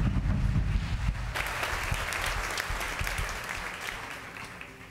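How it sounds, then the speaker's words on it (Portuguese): A church congregation breaks into applause, starting with a rumbling burst and settling into steady, somewhat distant clapping that slowly fades. "Você pode dar um aplauso ao Senhor pela vida do Alair, bem forte."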